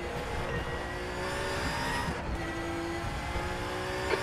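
Audi and GT3 race cars in the RaceRoom racing game, a steady engine drone with shifting pitch as the cars lap, continuous and fairly loud with no talk.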